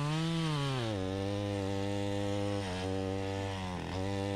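Chainsaw cutting a damaged tree during a hard hung-tree removal, the engine droning loud and steady throughout with small dips in pitch as the chain bites into the wood.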